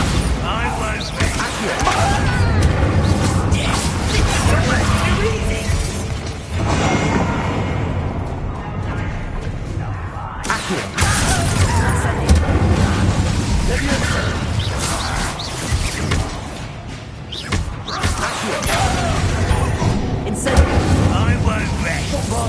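Bombarda blasting spell explosions in the video game Hogwarts Legacy, heavy booming blasts over a rumbling battle din, with voices talking over the action.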